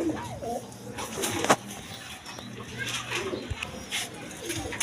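A pair of Rajgolla pigeons, red-coloured birds kept for sale, coo softly and intermittently in a quiet setting, with people talking nearby and a sharp knock partway through.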